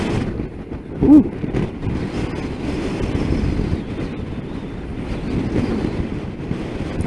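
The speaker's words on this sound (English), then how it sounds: "That is windy." Strong wind buffets a microphone outdoors at a Yorkshire Dales farm campsite, a continuous low rumbling roar with gusty swells and one sharp thump early on.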